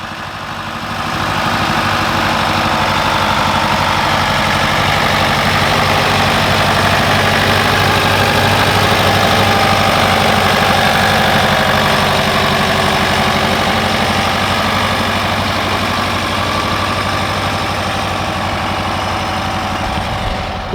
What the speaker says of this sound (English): put some beer cans, the kinds with the lid on them, and it idles, and every time the engine pops, it shoots the can to the top